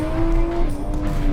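A car drifting on a tight Japanese track, engine droning loudly with a sustained tire squeal running throughout the short burst.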